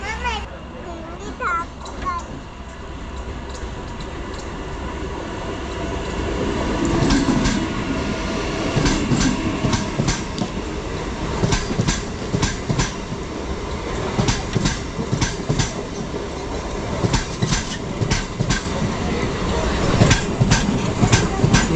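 The Sawantwadi–Diva Express train rolls past close by on the Konkan Railway, a loud steady rumble with repeated clickety-clack of wheels over rail joints, while people talk in the background.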